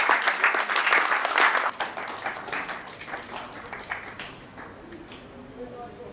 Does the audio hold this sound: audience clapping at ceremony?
yes